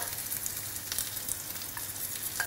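Cauliflower sizzles and crackles steadily as it fries in oil in a hot pan, with a continuous hiss and scattered pops, no voices.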